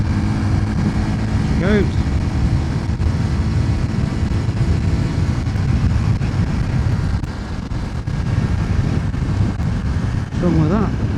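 A 2026 Honda C125 motorcycle accelerates to overtake on a dual carriageway, its engine droning steadily under heavy wind buffeting on the microphone, while a rider talks briefly over the noise.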